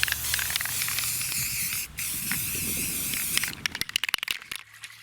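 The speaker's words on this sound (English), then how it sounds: "Let's put some white primer on. This stupid thing, I hate spray cans" A spray can lays white primer over a repaired plastic part with a steady, close hiss. The hiss then breaks into several short sputtering bursts near the end.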